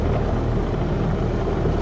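A tractor fitted with a brand-new post hole digger, reportedly overheating, runs with a loud, steady, rough engine drone close by, without talk.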